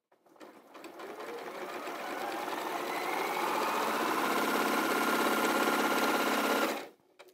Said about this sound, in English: you just let your machine have a little bit of welly and off it goes